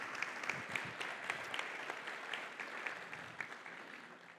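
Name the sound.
congregation applauding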